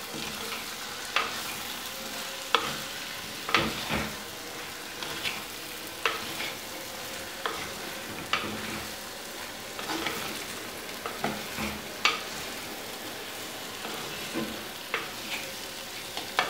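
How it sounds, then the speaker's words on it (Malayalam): Fried fish being stirred in a pan with vinegar for Kerala fish pickle, giving a steady soft sizzle with repeated scraping strokes of a spoon against the pan, close and alone. "ഇനി വറുത്ത് വെച്ചിരിക്കുന്ന മീൻ ചേർത്ത് നന്നായിട്ട് മിക്സ് ചെയ്യാം."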